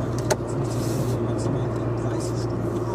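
A car drives through traffic, its engine and road noise forming a steady low hum heard from inside the cabin, with a person speaking quietly over it.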